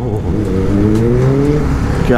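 A Kawasaki ZX-10R superbike pulls hard through city streets, its engine note climbing steadily in pitch as it accelerates, loud and close, with wind rush around it and a rider's voice talking over the ride.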